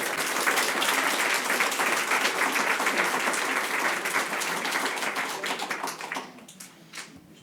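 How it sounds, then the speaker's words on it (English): Steady round of applause from an audience at an evening reception, dense clapping holding loud and even for several seconds before thinning out and fading near the end. "So I hope you give them a round of applause, too."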